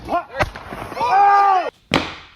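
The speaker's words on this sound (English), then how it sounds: "I still hope you all have your fingers while playing with fireworks" A firework sets off a sharp pop near the start, then a louder close crack bursts out after a drawn-out shouted voice, during the Christmas and New Year celebrations.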